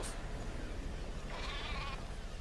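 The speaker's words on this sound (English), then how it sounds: "we see our friends, the sheep, as well as Jackie, have made it back to base safely" A single sheep bleat at Mother Base in Metal Gear Solid 5: The Phantom Pain, a brief wavering call rising over a steady, dense background wash.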